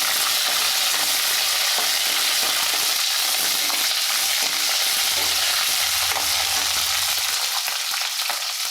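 Coriander seeds and green chillies fry in a hot pan for berakai pachadi, a steady dense sizzle running throughout with faint stirring scrapes and no voices.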